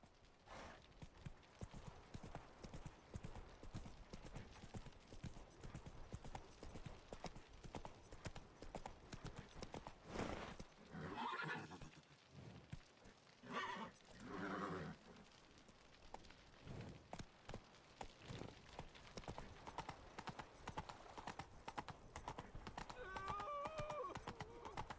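A horse in The Witcher 3 gallops with steady rapid hoof clops that run throughout, broken by a couple of neighs and whinnies, with other game sounds faint underneath.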